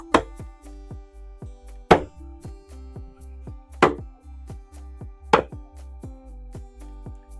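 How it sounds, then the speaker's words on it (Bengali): Goat meat being chopped into small pieces, a cleaver striking the board in steady repeated blows with a few heavier, louder chops mixed in, close up and with no voices. "দাদু ভাই কত কত সুন্দর মাংস কাটতে দেখুন ছোট ছোট পিস করে"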